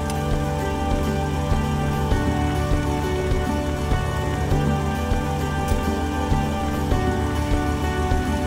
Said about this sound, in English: when it started to rain during our filming session